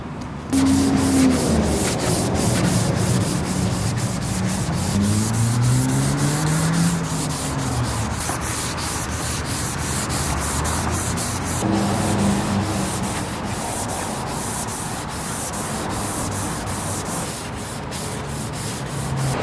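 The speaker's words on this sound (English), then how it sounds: "Just finished block sanding." Continuous rough rubbing of a sanding block across a car body, steady back-and-forth strokes, loud and close, with no talking.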